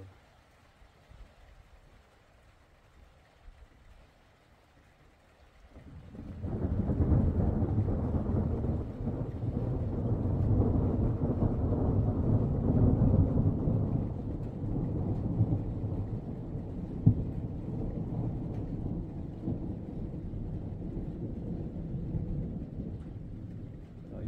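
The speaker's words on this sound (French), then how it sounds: "mais on a des éclairs juste au-dessus" Thunder in a moderate spring thunderstorm in Isère, France, starting quiet and then swelling into a long, deep rolling rumble that carries on and slowly fades, with wind buffeting the microphone and no voices.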